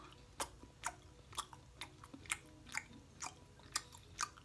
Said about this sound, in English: there'll be some gum popping